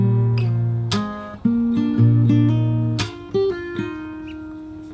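Fingerstyle acoustic guitar playing a bar: plucked bass notes and melody picked over several clear attacks, close and loud with no talking.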